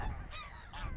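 A swan swimming close by on the water gives two short, nasal honking calls, loud and near, with no talk over them.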